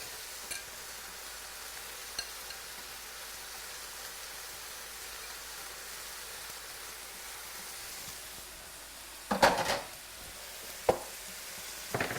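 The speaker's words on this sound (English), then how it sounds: "So I got the hamburger chopped up and starting to brown a little bit here, so I'm going to add the green pepper and the onion." Chopped hamburger meat browns in a pan with green pepper and onion, giving a soft, steady sizzle broken by a few scattered clinks and scrapes of stirring near the end.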